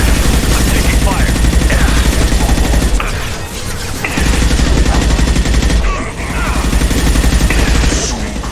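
Loud, dense automatic gunfire rattles almost continuously in Mass Effect video game combat, with brief lulls between bursts and booming impacts, while voices speak over the shooting.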